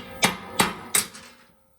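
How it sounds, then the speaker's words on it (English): Three sharp metallic hammer blows on a big punch driving a new shear pin into a snowblower, spaced roughly a third of a second apart, close and clear, the last ringing briefly before silence. "I also need that new shear pin, so I got a big punch and a hammer."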